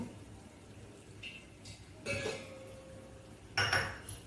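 A pot and metal utensils clink faintly while semiya is cooked in milk with ghee in a home kitchen, giving a few sparse, light metallic taps and one brighter clatter over a low background hum.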